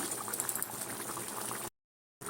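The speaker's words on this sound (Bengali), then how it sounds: "তরকারিটা ফুটছে, কসুরি মেথি একটু দিয়ে দিলাম।" Puti fish curry bubbles in a covered pan with a soft, steady simmer and faint popping. It breaks off briefly for a moment of silence, then resumes.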